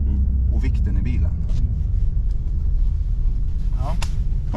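A car's engine rumbles low and revs while drifting on a frozen lake, a continuous throaty drone under ongoing speech.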